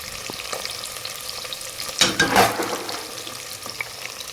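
Onion, potato and green beans fry and are stirred in a pan for a vegetable pulao, a steady soft sizzle with a louder burst of stirring and scraping midway.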